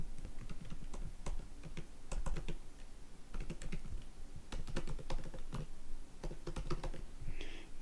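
Steady typing on a computer keyboard while entering email values into a Salesforce Flow screen, a close, quiet run of key clicks with no talk.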